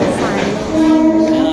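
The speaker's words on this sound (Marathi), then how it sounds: "मेट्रोमध्ये मी आता चढली आहे" A moving Mumbai metro train rumbles loudly from inside the carriage, with a steady low hum and a rising tonal whine over the noise.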